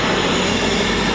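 A Class 221 diesel unit, 221112, passes at Stafford on the West Coast Main Line with an Edinburgh to London Euston service: a loud, close, continuous rumble of engine and wheels on rail.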